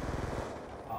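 Shotgun fire in a first-person shooter video game: a rapid cluster of close, sharp blasts for the first half second, then fading into a low background rumble.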